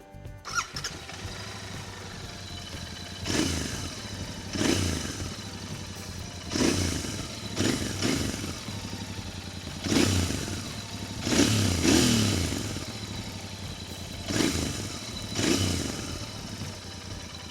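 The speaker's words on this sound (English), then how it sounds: "first listen to the exhaust note of this motorcycle" A 2021 Royal Enfield Continental GT 650 starts up and idles with a low exhaust rumble, then is blipped through repeated throttle revs that swell and fall back, close and alone.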